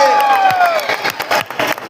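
A crowd at a lively Bengaluru game event breaks into loud cheering and clapping, with whoops and high shouts rising over dense, continuous applause that swells and then thins toward the end.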